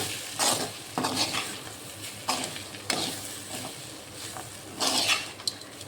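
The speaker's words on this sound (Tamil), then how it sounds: "சாதத்தை ஆட் பண்ணிவிட்டு நல்லா கிளறி எடுத்துக்கலாம்." Cooked rice gets stirred into fried seasoned onions in a pan: repeated spoon-scraping sweeps every second or so over a soft, continuous sizzle, with light clinks of metal on the pan.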